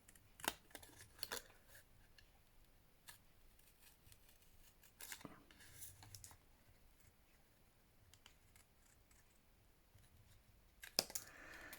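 Scissors trim paper paint strips for a craft project, giving several sharp, close snips scattered across the stretch with quiet rustling and tapping between cuts.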